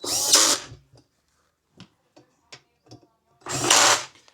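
A power tool drives in the leg fasteners of a swivel bar stool in two loud whirring bursts at the start and end, separated by a quiet stretch of small clicks and handling taps.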